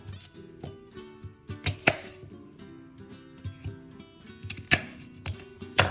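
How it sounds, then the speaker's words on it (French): A knife coarsely chops a peeled onion into quarters on a cutting board, with a series of irregular, close thuds and taps over a faint musical background. "J'ai épluché l'oignon et je vais le couper en 4 de manière assez grossière, comme ceci."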